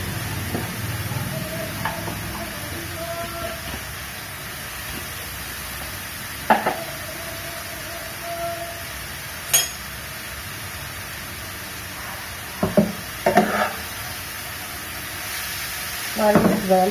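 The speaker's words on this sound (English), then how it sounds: "Fry it well." Half a kilo of grated carrot fries in a pan for carrot halwa, a soft continuous sizzle broken by occasional scraping stirs and sharp spoon taps against the pan, no voices.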